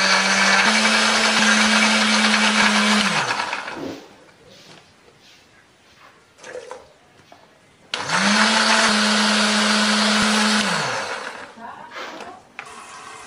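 A blender grinds roasted candlenuts and coriander with shallots, garlic and a little water, whirring loudly in two long bursts separated by a quieter pause.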